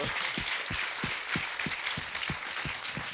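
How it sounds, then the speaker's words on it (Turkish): A television studio audience gives a big round of applause, steady clapping with a regular low beat of rhythmic claps or stomps running under it at moderate volume. "koskocaman bir alkış"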